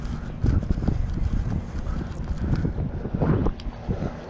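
Heavy wind buffeting a microphone outdoors beside a new building, a loud continuous rumble with gusty surges and no speech.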